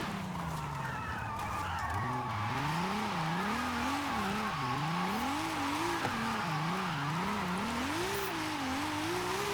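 A drift car in the Forza racing game, its engine droning at a wavering pitch that rises and falls continuously as the tyres squeal and slip, loud and steady without pause.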